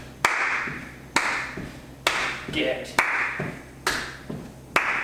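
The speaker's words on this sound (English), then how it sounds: "And we're going to add in some clapping." Sharp hand claps during a heel-dig warm-up exercise, about six evenly spaced claps near the listener, with someone talking between them.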